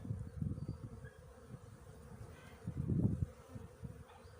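A low, steady hum of honeybees around a hive frame drifts throughout, swelling at a couple of points as if the insects pass close, with faint handling noises in the background.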